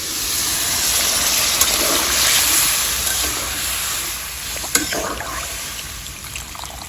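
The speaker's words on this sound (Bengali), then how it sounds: "জল দিয়ে দিলাম" Water pours into a pot of village-style chicken and taro curry as it cooks, a steady, close rushing splash that swells and eases over several seconds.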